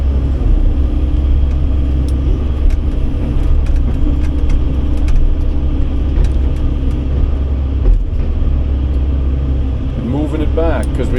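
A Sany 135 excavator's diesel engine rumbles steadily and loudly at close range while leapfrogging junk road material along a forest road, a constant low drone that barely changes throughout.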